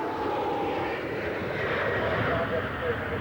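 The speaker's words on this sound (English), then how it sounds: "and the Nimrod from British Aerospace." A British Aerospace Nimrod aircraft passes during the Farnborough airshow, a steady loud engine roar sustained throughout with no break.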